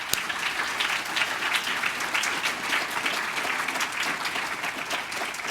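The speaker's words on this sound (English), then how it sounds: "She deserves a huge round of applause as our Director of Operations." Summit audience applauding a director of operations, a dense sustained round of clapping from a large crowd filling the room at an even level throughout.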